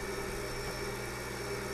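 A tractor engine from the Farming Simulator 2013 game drones at a steady idle, a constant dense mechanical hum with no talk and no change in pitch.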